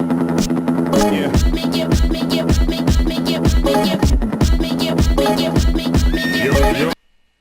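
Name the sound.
horse neighing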